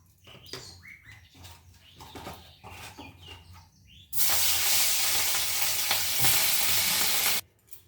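Two small hilsa fish heads with turmeric and salt frying in oil: softer scrapes and stirring clatter at first, then a sudden loud, dense sizzle that holds for about three seconds before cutting off.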